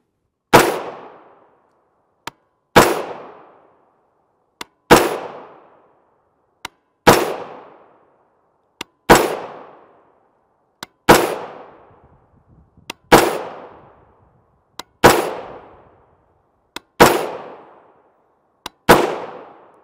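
.300 AAC Blackout (7.62x35mm) rifle with a longer barrel firing 125gr FMJ Tula Sergeant Major ammunition, about nine loud, evenly spaced single shots, each with a sharp crack and a quickly fading echo, and a faint click before each shot.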